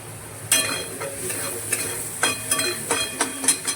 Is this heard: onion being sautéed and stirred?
yes